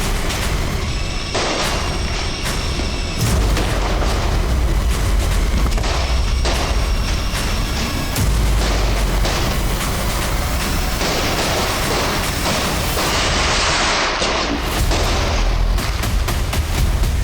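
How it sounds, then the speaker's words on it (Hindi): Gunshots mixed with Diwali firecracker bursts in a crime drama scene: a dense, loud run of sharp booms and cracks repeating irregularly throughout, with no speech over it. "मैं जानता था कि दिवाली के शाम में पटाखों के बीच गन की आवाज़ कोई सुनेगा ही नहीं।"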